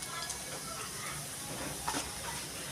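Mustard and cumin seeds sizzle and crackle steadily in hot oil, a close, even hiss with a couple of sharper pops near the end.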